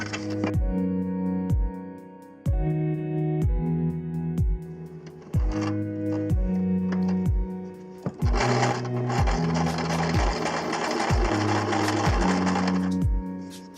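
A sewing machine stitches a strap on a Skechers Reggae sandal with a regular series of thudding needle strokes and short pauses. Near the end it builds into a denser, louder run. No one speaks.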